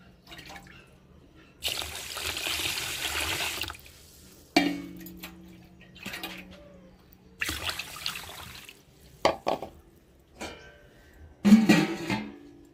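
Water is poured over rice in a vessel to soak it, in several bursts of splashing and trickling that stop and start, close by, with brief clinks of a pot in between.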